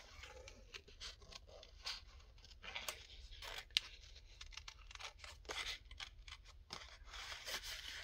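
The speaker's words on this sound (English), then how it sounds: "I think what I'm going to do is fussy cut around this." Scissors fussy-cut around a paper image for an Easter tag, giving faint, quiet snips and paper rustles in an irregular series across eight seconds.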